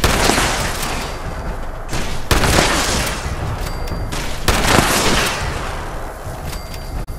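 Self-destructing enemies exploding in Fallout 76, a run of loud, heavy blasts and bursts of fire that follow one another over several seconds with no voices.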